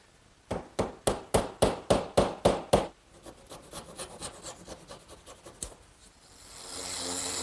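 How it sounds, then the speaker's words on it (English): Glued wooden dowel driven into a kitchen worktable with a hammer, eight sharp evenly spaced strikes, then softer scattered taps and scraping, ending in a rising rubbing noise. "And I'll drive it in, making sure not to hit it so hard that it might pop through the other side."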